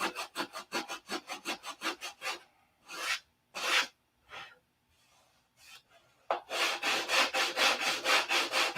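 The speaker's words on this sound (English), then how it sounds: "If you listen to that noise, it'll change when it's time to stop sanding." Rhythmic rasping strokes of hand sanding on wood, fast back-and-forth bursts, a pause with a few separate strokes, then steady rubbing again, close up.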